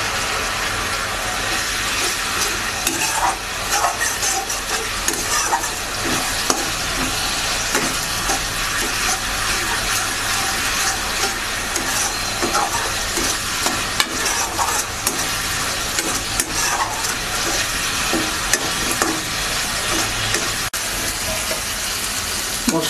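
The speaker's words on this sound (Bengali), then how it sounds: "মশলাটা ভাজা হয়েছে" Spices with salt, turmeric and chilli powder sizzle and crackle in a hot pan for a fish-head moong dal, a loud, continuous frying hiss broken by stirring scrapes.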